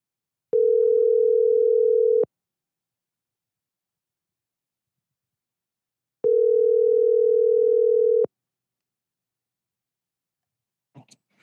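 A telephone ringing tone sounds twice, each a steady two-second buzz separated by a long silence, followed by a faint click at the end.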